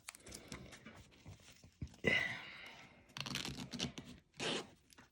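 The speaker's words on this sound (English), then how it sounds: "now we are going to open our zipper for reals" A zipper on a handmade zip bag is pulled open in several short rasping runs, close and fairly quiet, separated by brief pauses and handling noise.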